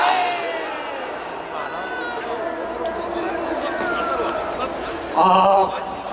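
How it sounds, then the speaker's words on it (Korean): A large outdoor crowd at a patriotic rally in Gwanghwamun, Seoul, sends up a sustained roar of cheering and shouting for Buddhist monks, loud and continuous, with a brief sharper swell near the end. "수고하신 우리 스님들에게도 뜨거운 함성을 보내주시기 바랍니다"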